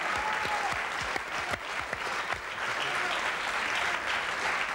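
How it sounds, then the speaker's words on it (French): A television studio audience applauds Jean Lefebvre during a hidden-camera prank show, with dense, steady clapping that holds at an even level throughout and carries a few faint voices within it. "D'abord, on l'applaudit."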